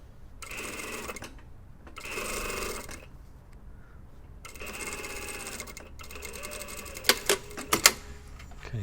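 A sewing machine stitches the top collars of a dartless lined jacket together in several bursts of steady whirring, with short pauses between runs and a few sharp clicks near the end.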